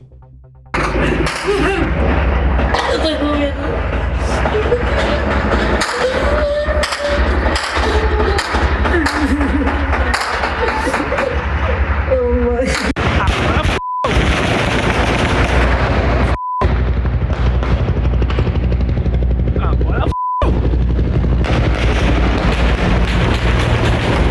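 Rapid, dense bursts of gunfire and heavy booms in a Rio de Janeiro favela shootout with police crackle continuously, loud and close, with a few brief beeps cutting through.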